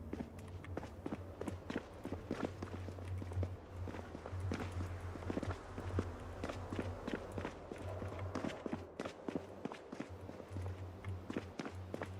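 Footsteps in the survival game Project Zomboid, a steady run of crisp close steps across the whole stretch over a constant low generator-like hum.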